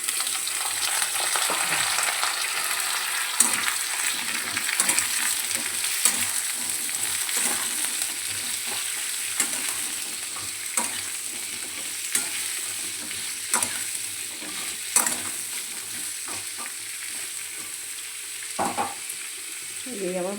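Drumstick stalks and potatoes fry with browned onions in a pan, a steady close sizzle running throughout with scattered scrapes and clicks of stirring for about twenty seconds.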